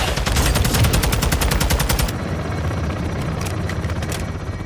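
A helicopter fires a rapid machine-gun burst during a Call of Duty Modern Warfare 2 campaign battle, loud and close over a rotor drone. The firing stops partway through, leaving the helicopter thrum with a few scattered distant shots.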